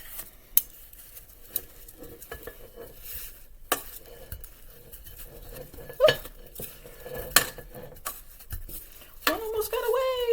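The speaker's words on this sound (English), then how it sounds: "we are going to add in all of our meatballs that we just got done cooking. Add them into your slow cooker." Cooked meatballs spooned into a slow cooker, with scattered clinks, scrapes and soft thuds of utensil against pot, fairly quiet with a few sharper knocks.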